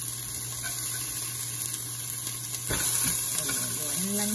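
Garlic and onions sautéing in a hot pan give off a steady, dense sizzle that stays loud and close throughout, swelling slightly near the end, with faint clinks and no speech.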